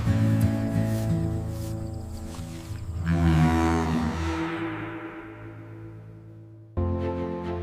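Ayrshire cows moo loudly in long, drawn-out calls, one low bellow fading away before another begins close by.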